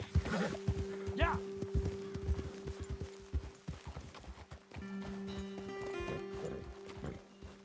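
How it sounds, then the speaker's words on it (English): Horses' hooves clip-clop in a steady, uneven rhythm in the video game Red Dead Redemption 2, fairly close, with a whinny and voices talking over a low hum. "Best leave the horses back a bit."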